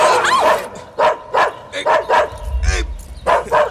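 A dog gives a rapid series of loud, close barks and yips, about eight in a few seconds, with a short whimpering note in between and a low thud near the middle.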